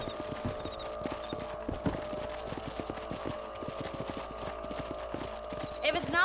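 Horse hooves clip-clop steadily at a walking pace while riding across a farm property in the video game Red Dead Redemption, an even rhythmic clopping under a steady background hum, with a brief rustle at the end.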